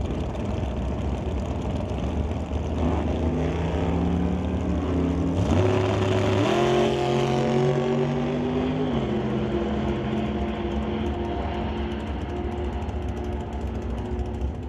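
A drag racing engine at an NHRA Summit ET series event roars loud and steady from a distance, its pitch climbing and shifting through the run over constant crowd-and-track din.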